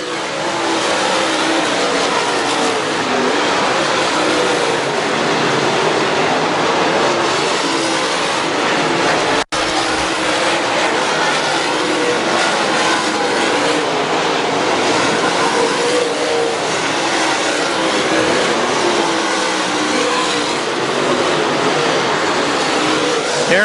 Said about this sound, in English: Wyman, Phillips, Youngins, Will Vaught, and Tony Jackson Jr., your top 5 race cars